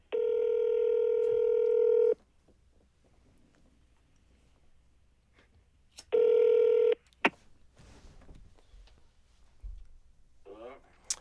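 A telephone dials out in a loud steady tone burst, falls quiet, then a second shorter burst follows, with a few clicks and faint voices nearby.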